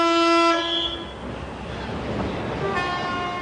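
A horn sounds sustained, chord-like tones at the start and again near the end, framing a rushing, rumbling stretch, on a slow train crossing the mountains of the Peloponnese in Greece toward Olympia.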